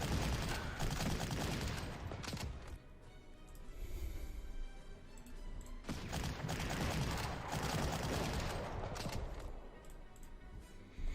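Artillery fire in the World War II strategy game Panzer Corps: dense, rumbling volleys of blasts and rattling gunfire overlapping in a sustained barrage, loud and continuous with brief dips between salvos.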